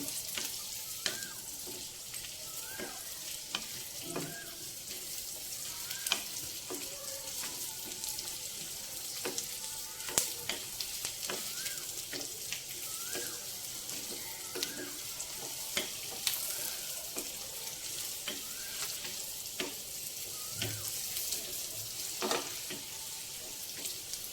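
Chopped vegetables for veg upma frying in a pan, a continuous close sizzle with frequent sharp clicks and scrapes of stirring throughout, no voices.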